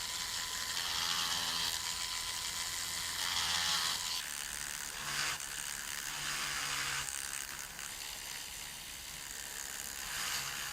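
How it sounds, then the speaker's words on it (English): A flex shaft rotary tool with a small sandpaper roll sands the bezel on a handmade zodiac ring, giving a continuous faint whirring grind with slight shifts in pitch and no talking. "I'm just going to take this little sandpaper roll on my flex shaft and just sand down the bezel a little bit"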